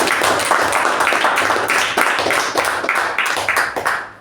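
An audience at a communication club meeting claps steadily, a close, lively patter of many hands that holds strong and then tapers off at the end.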